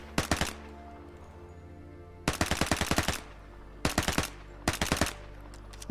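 Rapid automatic gunfire from a reskinned weapon in the game Vigor comes in three close, loud bursts of quick rhythmic shots, separated by short pauses over a low steady hum.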